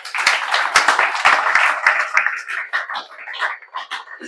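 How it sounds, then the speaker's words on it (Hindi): Audience applause breaks out at a student gathering on AI and Data Science studies, with dense clapping that thins out toward the end. "इसके लिए तो जोरदार ताली होना ही चाहिए"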